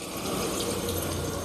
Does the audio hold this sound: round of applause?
no